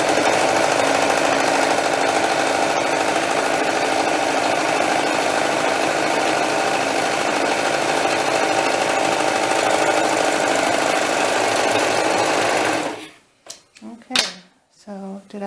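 A serger sewing machine stitches doll dress fabric in one long, even, rapid mechanical whir, close and loud, which stops abruptly near the end, followed by a few brief sounds.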